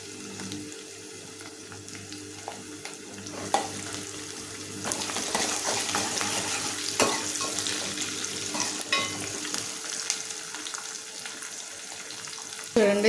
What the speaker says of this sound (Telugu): చూడండి, తాలింపు చక్కగా వేగిపోయింది కదండి